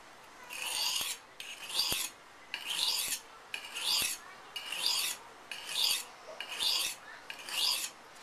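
A knife blade is drawn across a sharpening stone to raise a burr along one side of the edge, giving about eight steady rasping strokes roughly a second apart, each ending in a light click, close up and with no talking.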